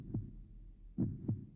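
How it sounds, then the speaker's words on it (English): An audio-drama heartbeat effect thumps in low, muffled beats against a dark, creepy atmosphere, one beat followed after a pause by a closer double pulse. "We've got the heartbeat, and we've got just a really creepy atmosphere"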